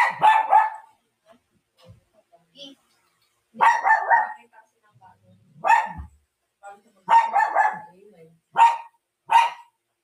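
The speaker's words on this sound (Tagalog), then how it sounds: "Tahol ng tahol si Coffee." A dog barks repeatedly in short bursts, loud and close, with pauses between barks and a few quiet whimpers in the gaps.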